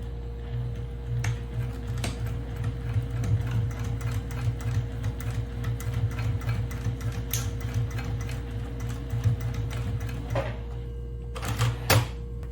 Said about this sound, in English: we're gonna take it to the sewing machine and we're gonna top stitch here across.